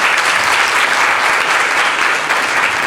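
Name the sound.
applause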